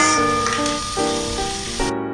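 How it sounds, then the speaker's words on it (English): Bacon sizzles loudly in a pan, a dense, steady hiss that holds almost throughout before dropping off sharply near the end, with a tonal musical backing running underneath. "So while the bacon is cooking"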